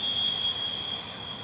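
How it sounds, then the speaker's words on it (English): A CSX intermodal freight train, Tampa to Jacksonville, passes near Bonnet Springs Park in Lakeland, Florida, with a steady close rumble and a sustained high wheel squeal running throughout. "There it goes, CSX Intermodal train I-044"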